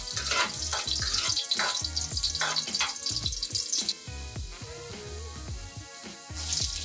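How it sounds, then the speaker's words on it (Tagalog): Garlic sautéing in cooking oil in a pan for sardines with bihon noodles, a steady sizzle with stirring clatter, continuous and fairly close, with no talking. "Igisin natin ang ating bawang."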